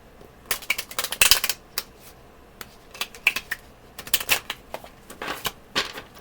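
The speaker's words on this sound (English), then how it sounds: "It's one messy shuffle." Close, rapid clicking and riffling of cards being shuffled in several uneven bursts, with short pauses between.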